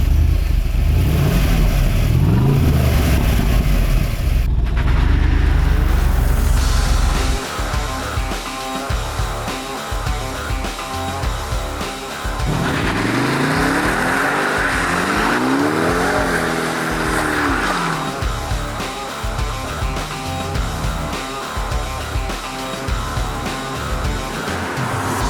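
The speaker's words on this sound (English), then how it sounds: "Can I take it for a drive now?" A Holden Monaro driven hard, its engine loud and close as it revs up and down through repeated accelerations, with tires squealing in bursts and no talking.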